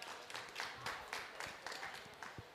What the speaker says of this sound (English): Round of applause for Thomas, Thank please. you very much.